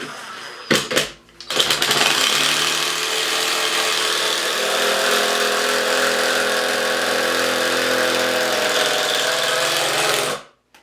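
A Ryobi brushless impact driver drives a screw with a worn bit, a loud continuous rattling hammer and whine lasting several seconds after a brief start, then cutting off abruptly.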